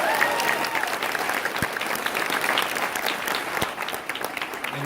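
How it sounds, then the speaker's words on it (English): An audience at a Democratic political forum in Georgia gives a steady, dense round of applause that fills the room for several seconds. "We should take a moment to give a round of applause and thanks to Congressman John Lewis"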